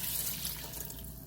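Water runs steadily from a tap or jug into a Ninja Foodi pot, a close, continuous splashing pour that lasts the whole brief moment.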